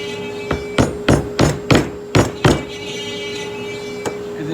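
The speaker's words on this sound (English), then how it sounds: "now you can put your pegs in with a hammer or whatever you want to do." Wooden pegs are driven into a wooden banjo rim with a hammer: about seven sharp, close strikes in an uneven rhythm, then a pause and one lighter tap.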